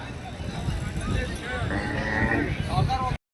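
Cows and buffaloes at a cattle market in Gadag, with low mooing and bellowing heard close by against a busy background of crowd murmur and voices, followed by a sudden cutoff at the end.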